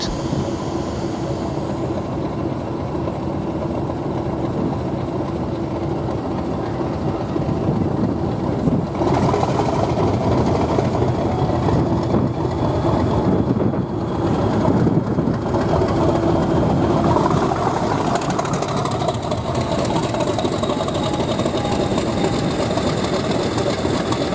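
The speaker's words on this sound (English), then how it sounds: "The Class 50s were designed to haul express passenger trains at 100 miles per hour." An English Electric Class 50 diesel locomotive, built at the Vulcan Foundry for 100 mph express passenger work, drones steadily with a low engine rumble and rolling rail noise. The sound is sustained and fairly close, with no talk.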